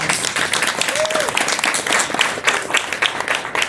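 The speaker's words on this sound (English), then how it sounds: "I think that deserves a big round of applause." Applause breaks out in a museum glassblowing demonstration hall, a steady crowd clapping that holds through the clip, with voices mixed in underneath.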